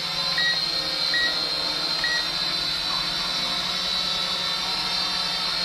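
H108 beginner quadcopter drone motors flying, a steady high-pitched electric whine and buzz that holds constant throughout, with no speech.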